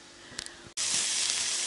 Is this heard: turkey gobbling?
no